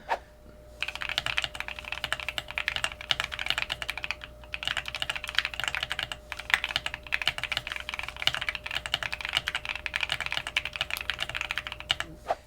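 Rapid, steady typing on a mechanical keyboard, dense clacky keystrokes close up with a faint hum underneath and no talking.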